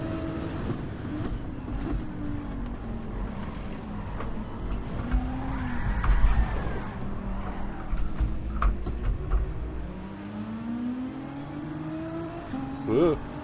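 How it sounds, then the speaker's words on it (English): A Mercedes AMG car engine in a racing video game revs and drones, with pitch rising and falling through gear changes and a voice talking over it. "that AMG does sound gorgeous, actually"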